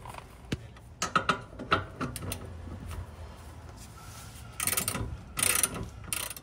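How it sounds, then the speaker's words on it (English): Ratchet backing out the bottom bolt of a rear shock on an Acura RSX (Integra DC5), with bursts of quick clicking pawl strokes interspersed with pauses, close up and moderately loud, with no talking. "removing the rear shocks pretty much involves backing out one bolt at the bottom"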